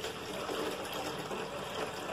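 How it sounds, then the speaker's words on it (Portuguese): Water poured from a container onto a potted caladium (tinhorão) plant, a steady soft splashing and trickling at close range that continues throughout with no talk. "Junto água nela"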